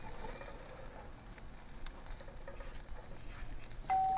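Chicken thighs sizzling skin-side on a hot barbecue grill, a steady crackling hiss with fine popping spatter throughout, close and moderately loud, with a faint metallic clink near the end.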